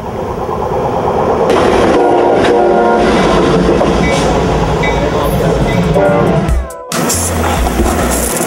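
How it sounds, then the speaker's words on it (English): A train rolls along rail tracks in a Seattle rail yard, a loud continuous rumble with metallic squeals and clatter, close by, ending in a brief dip before heavy low thumps resume. "This train can move at any second."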